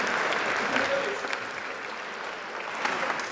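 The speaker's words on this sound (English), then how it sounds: "Another round of applause for the guys." A live audience at a hack demo session claps steadily, a dense, roomy applause that swells slightly at the start and end, with a voice faintly audible underneath.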